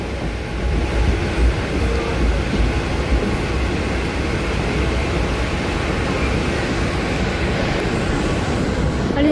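Slow Trans Harbour Line local train rolling into Nerul station, a steady loud rumble of wheels and carriage noise filling the space without letup, heard from inside the moving train.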